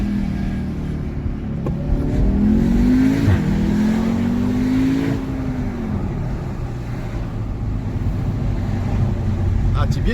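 An Audi TTS launches hard in a tunnel, its engine rising in pitch as it accelerates through the gears, loud and echoing, with a shift dip before the roar settles into a steady drone.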